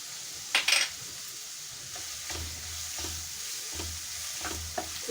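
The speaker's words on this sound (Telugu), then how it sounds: "ఇది నూనెలో పచ్చివాసన పోయే వరకు, అంటే పచ్చిమిరపకాయ, చిన్నుల్లిపాయ పచ్చివాసన పోయే వరకు మనం వేయించుకుందాం" Green chillies and shallots fry in hot oil for a potato curry, a steady low sizzle with scattered scraping stirs and a couple of sharp metallic clinks near the start, no voices.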